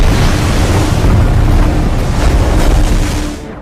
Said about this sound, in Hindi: तभी समंदर में एक खतरनाक तूफान आया